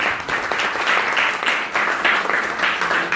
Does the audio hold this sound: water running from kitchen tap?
no